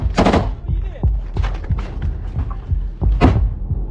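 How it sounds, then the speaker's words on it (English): A Ukrainian soldier fires into a smoke-filled area during a combat ambush, with sharp bursts of close gunfire and thuds in an irregular rhythm, loud and near. "A Ukrainian soldier opens fire into the smoke-filled area"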